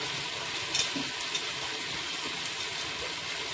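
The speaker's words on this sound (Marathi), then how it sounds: "आता आपला कांदा गुलाबी कलरचा झालेला आहे त्यात आपण आता टमाटो टाकून" Onions and tomatoes sautéing in a pan for chicken biryani give off a soft, steady sizzle with a few faint stirring clinks, quiet and without talk.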